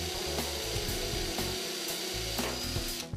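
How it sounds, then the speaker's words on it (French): A power driver sinks screws into a Deceuninck Terrace Massive composite decking profile, giving a steady close whirring drive with a few sharp clicks and ratcheting bursts across the short stretch, no talking. "Et vous devez bien entendu encore visser."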